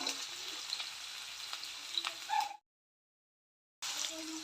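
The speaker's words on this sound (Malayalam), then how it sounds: "അപ്പം നമ്മൾ കുറച്ച് ഉപ്പിട്ട് കൊടുത്തിട്ട് സവോള നന്നായിട്ടൊന്ന് വഴറ്റിയെടുക്കാം." Onions sautéing with salt in a pan for village-style chicken curry, a quiet, steady sizzle with a few light stirring touches, briefly cutting out to silence before resuming.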